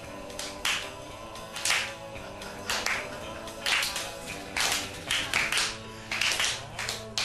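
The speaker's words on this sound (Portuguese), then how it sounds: "Palmas pra mim." Scattered, uneven hand claps from a small group break out in several short bursts, crisp and fairly close, with brief gaps between them rather than sustained applause.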